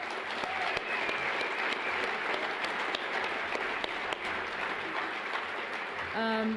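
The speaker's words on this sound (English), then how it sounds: "I want to give them another round of applause for their support" An audience at a state governor's arts awards ceremony applauds the event sponsors, a dense, sustained roar of many hands clapping at fairly even loudness for several seconds, with a voice starting to speak right at the close.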